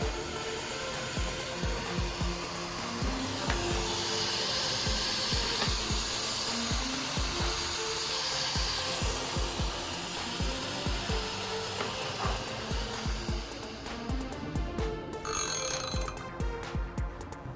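A hard disk drive's BLDC motor, run on 12 volts, whirs at high speed with a steady hum and fine rapid clicking, fairly faint and continuous throughout.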